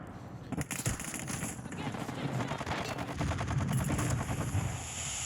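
Heavy gunfire and minigun bursts in the Call of Duty Warzone video game, a dense, continuous barrage of rapid shots and explosions lasting several seconds, loud and close.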